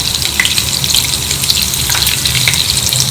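Cumin seeds frying in oil with butter in a pan, a loud, dense crackling sizzle that stays close and continuous, with faint spatters and no voices.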